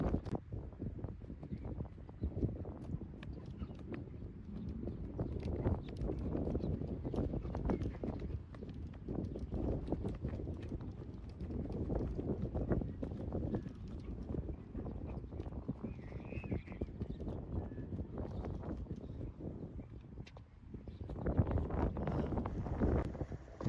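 Wind blows steadily across an open golf course, making a low rumbling buffet on the microphone that surges and eases in gusts throughout, with no clear speech.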